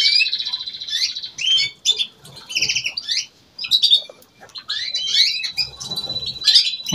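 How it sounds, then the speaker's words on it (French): A male canary sings loudly and powerfully in a bird room, rapid high trills, rolls and chirps in bursts with short pauses, close and clear. "ce chant de mâle canari puissant va exciter les femelles"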